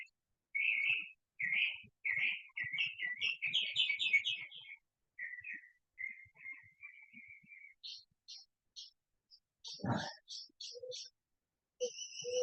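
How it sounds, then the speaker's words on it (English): Small birds sing outdoors in a clear series of chirps, trills and whistled phrases with short silences between, fairly close, with a brief low thump partway through. "Birds are giving me a concert."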